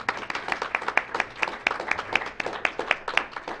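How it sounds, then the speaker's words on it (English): Small gathering at a city council regular meeting applauding, scattered distinct hand claps in an uneven rhythm, fairly close and moderate in volume. "Should we give a round of applause?"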